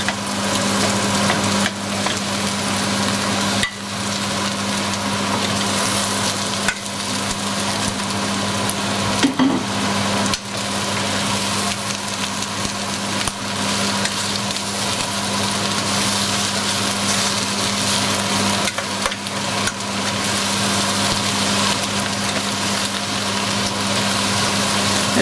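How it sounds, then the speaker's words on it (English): Pork belly frying in a pan with browned onion and garlic, a loud continuous sizzle with occasional stirring scrapes, close and steady throughout. "as soon as the onion and the garlic take on some color, you're gonna add the meat."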